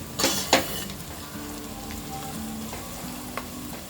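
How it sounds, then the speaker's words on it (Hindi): Onions frying over a low flame for masala pulao give a steady soft sizzle, with two louder stirring or spatula scrapes near the start and a light clink later. "अनियंस को हम गोल्डन ब्राउन होने तक लो फ्लेम में फ्राई करेंगे।"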